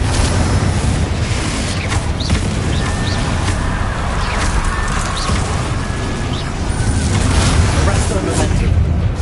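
Confringo blasting spell explosions in the Hogwarts Legacy game, a dense continuous din of blasts and crackling impacts with no clear gaps, loud and close throughout.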